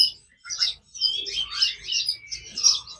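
Small pet birds at a bird-selling kiosk, sold in mini pairs, give a run of high, bright chirps and twittering phrases close by, one call after another for a few seconds, with no talking over them.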